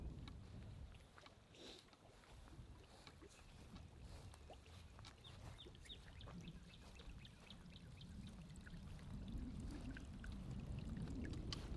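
Continuous trickling and splashing as water runs out of a French drain pipe into a pond outdoors, a soft steady flow with small irregular gurgles throughout.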